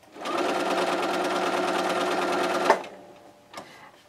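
A sewing machine stitches a row of a raw edges square quilt in a steady, fast, continuous run for nearly three seconds. It then stops with a clunk, and a faint click follows.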